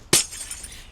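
A glass bottle shatters in the video game What Remains of Edith Finch, one sharp loud crash followed by a short tinkling tail of scattering shards.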